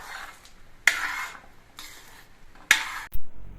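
A spoon scraping and stirring jackfruit seed payasam in a metal pot, with a few sharp clinks against the rim and softer scraping strokes in between, close and alone.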